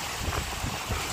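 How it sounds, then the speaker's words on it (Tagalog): Strong wind roars steadily and loudly across the microphone on a rainy seashore, a dense continuous rush with no voices. "Ang lakas ng hangin."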